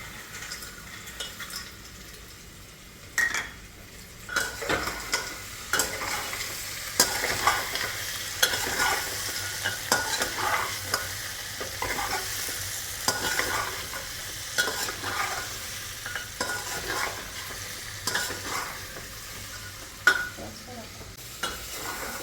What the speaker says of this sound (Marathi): कांदा आणि बटाटा छान परतून झाला आहे, तर आपण त्यामध्ये सोयाबीन घालूया